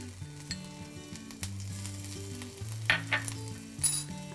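Chopped ginger crackles in a couple of drops of ghee in a pan, a light sizzle under a background melody, with a few sharp pops and stirs toward the end.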